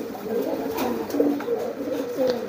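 A courting pigeon coos in repeated low, throaty phrases close by, a steady rolling rhythm of calls with a little background bustle.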